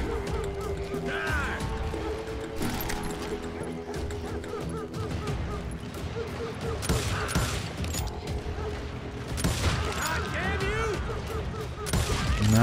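Gunshots in the Call of Juarez Gunslinger video game, several sharp shots scattered over mechanical clanks and game noise, with someone talking over much of it.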